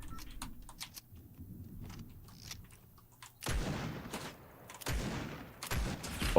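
Bursts of gunfire in a shooter video game, a few sharp broadband volleys in the second half over a low, busy game background, with quieter clicks and taps earlier.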